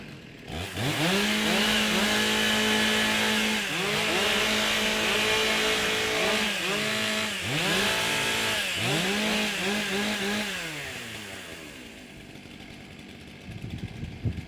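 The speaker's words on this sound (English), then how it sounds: "Over to the judges for this final heat in the stock saw. Warm up your saws." Several stock chainsaws at an Australian pro timbersports championship are revved and warmed up together, engines rising and falling in repeated throttle bursts, loud and close, before settling toward idle and fading.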